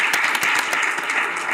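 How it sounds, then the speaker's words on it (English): An audience at an insurance-related panel event gives a round of applause, a continuous dense clatter of many hands with a few sharper individual claps standing out, loud and steady throughout the short burst. "Please give them a round of applause for doing this."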